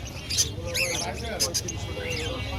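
Caged cockatiels sell at a busy bird market, giving short, shrill squawks and chirps in several bursts. Other birds call around them and people talk nearby throughout.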